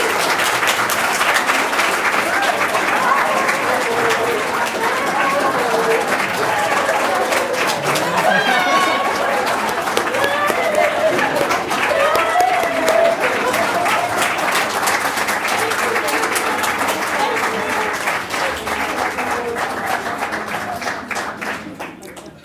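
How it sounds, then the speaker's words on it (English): Loud, sustained applause from a large audience at a school board meeting honours a retiring high school math teacher, dense clapping running steadily for over twenty seconds with some crowd chatter mixed in before fading slightly at the end. "Couldn't get in because of the loud applause"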